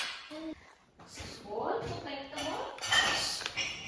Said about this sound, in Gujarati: ડિસોસરમાં વાસણ ઘસું છું.